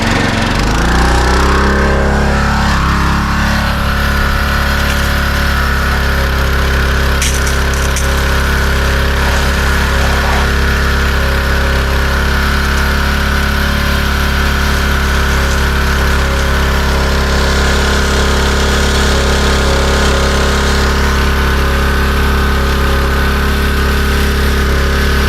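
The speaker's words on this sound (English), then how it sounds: "So I'm gonna throttle up this pump and just show you guys what this thing is capable of with a 2-inch trash pump." A gasoline engine on a 2-inch trash pump for a homemade water truck revs up and then holds a loud, steady, rough drone close by, alone with no talk.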